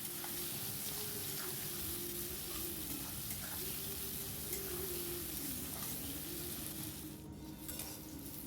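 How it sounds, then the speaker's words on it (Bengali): Onions fry in a pan for a meat curry, giving a steady, close sizzle that runs throughout with faint stirring, and no voices heard. "ওদিকে কিন্তু মাংসর পেঁয়াজটা ভাজা হচ্ছে"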